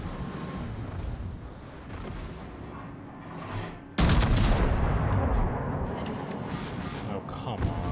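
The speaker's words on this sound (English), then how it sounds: "I'm trying to get close enough to let these secondaries bust." Secondary guns on a World of Warships battleship thud and crack in a dense, rumbling barrage that jumps sharply louder midway and keeps pounding, with a player's voice talking over the game noise.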